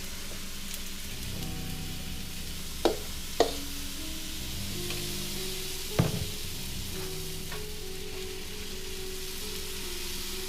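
Steady, close sizzle of Swedish pancake batter frying in a buttered pan, a continuous hiss with a few sharp scrapes or clinks of a utensil against the pan.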